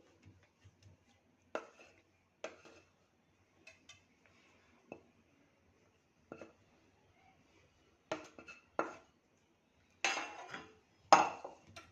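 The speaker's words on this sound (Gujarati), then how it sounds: "હવે આપણે એક થાળીમાં બધું નાખી અને સેટ કરી લેશું." A sweet mixture is scraped and spread into a metal plate, giving scattered clinks and scrapes of a spoon against the metal, close and fairly quiet, with louder bursts toward the end and no talk.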